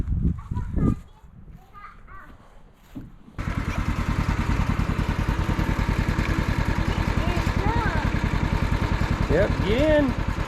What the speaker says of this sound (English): Alright, we'll ride the tractor for just a minute.